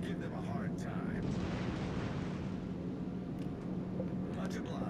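Distant naval shell fire and explosions rumble continuously in World of Warships: Legends, a battle with the T6 cruiser Helena, a dense low roar with faint booms and a voice talking over it.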